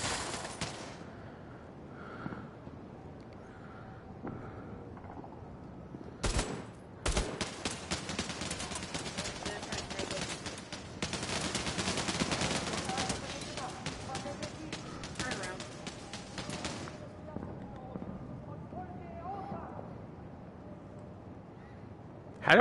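Rapid bursts of gunfire from a shooter video game crackle through the middle stretch, dense and fairly loud, with quieter stretches either side while a player talks over it.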